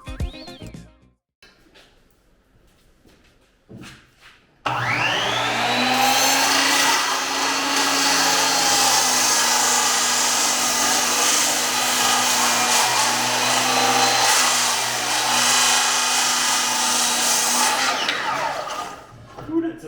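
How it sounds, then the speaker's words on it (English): A handheld circular skill saw cuts through framing lumber for a clubhouse, revving up and holding a loud, steady whine for about thirteen seconds before spinning down, with quieter handling noises beforehand. "you could use just any skill saw, cut through them and get them started"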